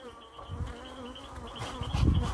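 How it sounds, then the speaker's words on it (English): Honey bees buzzing around an opened hive as a beekeeper works the frames, a close, steady, fairly quiet drone with brief louder passes. "Keeps the bees quiet."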